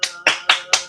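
A streamer claps hands four times in quick even succession, each clap crisp, close and loud with a short ringing decay, no talking.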